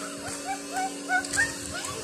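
Small puppies yip and whimper with high, thin cries in several short bursts, fairly quiet and close by.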